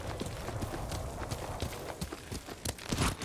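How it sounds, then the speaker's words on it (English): A horse's hooves drumming in a quick gallop in the Ghost of Tsushima video game, a steady clip-clop rhythm at moderate volume with no voices over it. "Yuriko's horse. She can't be far."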